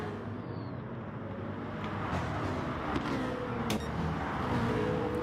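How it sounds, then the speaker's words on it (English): Two BMW M3 race cars running bumper to bumper in a Gran Turismo Gr.3 league race at Blue Moon Bay Infield, a steady droning engine roar with gear-change whines and rising revs, close and continuous with no talk. "Two BMW M3s. Bumper to bumper as they head into this final turn."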